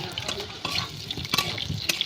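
Marinated chicken cooks in a pan, giving soft sizzling and stirring scrapes with a few sharp clinks and watery splashes, fairly quiet and close, with no talking.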